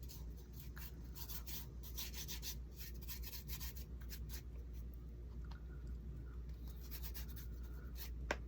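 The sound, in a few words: rubbing cinnamon onto a painted faux cinnamon stick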